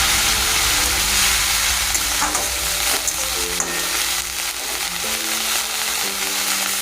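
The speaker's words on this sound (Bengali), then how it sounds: "সব মশলা ভাজা ভাজা হয়ে গেছে" Spices fry in a hot pan with a constant close sizzle and crackle, broken by brief stirring scrapes, with no talking.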